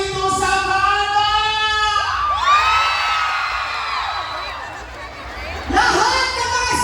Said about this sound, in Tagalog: magpalakpakan na may kasamang sigawan dito sa Mana